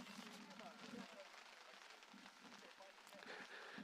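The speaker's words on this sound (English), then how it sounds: "Got a little rain here. I was wondering what the tattering was in the background, and finally know what it is." Light rain patters at an outdoor college baseball game between Tuskegee and Benedict, a faint, steady crackling hiss with scattered soft taps. Bits of broadcast talk and crowd noise sit lightly over it.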